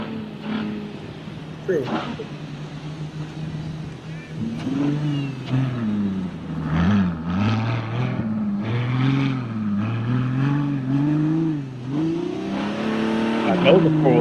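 A BMW M Coupe engine revs and pulls hard on a race track, its rising and falling drone loud and close, while people talk over it.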